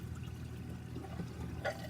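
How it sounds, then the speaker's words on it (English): Water from a hose pours steadily into a BRS reactor cartridge set in a bucket for rinsing, a constant close splashing fill with a brief louder gurgle near the end. "So now you can see the cartridge is filling up with water."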